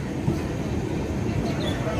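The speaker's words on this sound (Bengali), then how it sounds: "চলো, চলে গেল ট্রেনটা।" A train pulling out of a station platform at dawn rumbles low and steady nearby, a continuous rolling drone with faint clatter and no clear voices.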